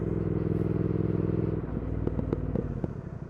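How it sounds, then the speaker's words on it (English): Brake discs on a 2020 Triumph Speed Twin motorcycle, bedding in new EBC HH pads at about 30 mph under light braking, give a few short scraping, ticking squeals over the steady engine and wind rumble. "Oh yeah, you can hear the noise from the discs"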